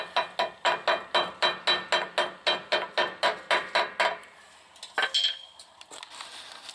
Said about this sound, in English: go ahead and tap the yoke back onto the pinion flange